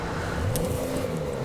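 A yellow Porsche drives by with a steady engine whir and road roar, fairly close and loud throughout, with no talking.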